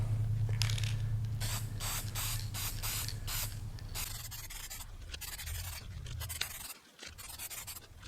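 A spray can sprays paint onto a towel bar in a series of short, rhythmic hissing bursts, close and fairly loud, followed by a few longer sprays with brief pauses between.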